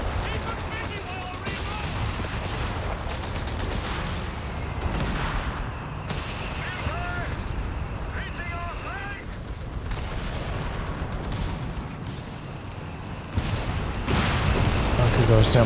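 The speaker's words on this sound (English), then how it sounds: "Bring up a MG bunker down here. Use machine gun." Machine gun fire from an MG bunker in Company of Heroes 3, sustained rattling bursts mixed with other battle gunfire and explosions, continuous under a speaking voice.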